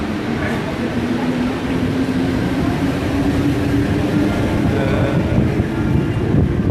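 A train runs through a Paris metro station, a loud continuous rumble and rattle of wheels on rails that fills the whole stretch, with crowd noise and voices mixed in.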